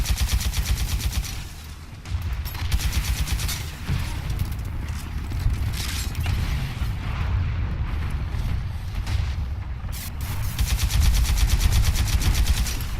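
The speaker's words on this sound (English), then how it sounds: "if you fire so many rockets, you can't really know where you're shooting" The SMR Sidewinder in Titanfall 2 fires streams of rockets as rapid, continuous rattling bursts with rumbling blasts underneath, loud and sustained throughout with brief lulls between volleys.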